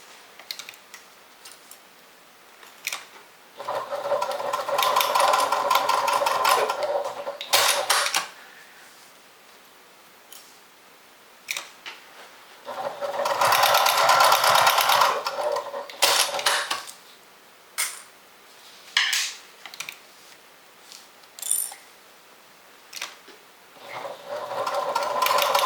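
Sewing machine basting handles onto a makeup and toiletry bag, several close bursts of rapid rattling stitching separated by quiet pauses and small clicks of handling the fabric.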